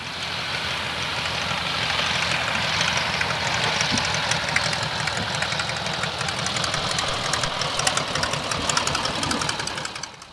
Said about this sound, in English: the radial engine in the triplane is fixed, and it's only the propeller that spins